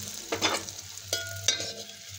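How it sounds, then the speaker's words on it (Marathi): Bread slices frying in ghee in a pan, a quiet sizzle broken by a few sharp scraping stirs and pops, close by with no speech. "आपल्याला अशा प्रकारे जे ब्रेडचे स्लाइड केले होते ते असे तळून घ्यायचे"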